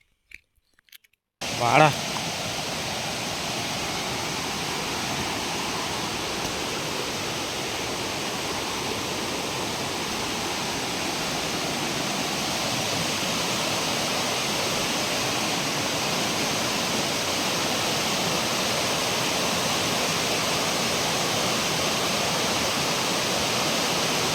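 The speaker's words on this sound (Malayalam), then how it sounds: "വെള്ളച്ചാട്ടത്തിൻ്റെ സൗണ്ട് കേൾക്കാൻ നല്ല രസമുണ്ടല്ലേ" Doni waterfall in Palakkad roars steadily after a brief moment of silence, a broad continuous rush of falling water that holds loud and even throughout.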